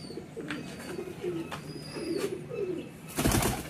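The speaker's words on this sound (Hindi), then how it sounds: "ये कबूतरी है" Pigeons coo in soft, throaty rolling calls close by, several phrases in a row, followed by a brief burst of fluttering or rustling.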